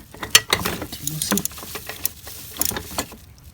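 A coolant drain fitting on a Chrysler 3.8 L engine in a Town & Country minivan is worked loose by hand, giving close, rapid ratcheting clicks and metallic taps in uneven bursts, with no talking.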